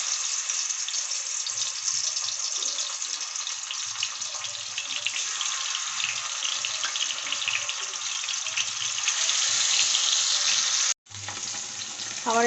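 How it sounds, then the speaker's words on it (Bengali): Rohu fish pieces frying in hot oil in a kadai, a loud, continuous hissing sizzle with crackling spatter that cuts out abruptly for a moment, then resumes. "মাছগুলো দিয়ে দেবো।"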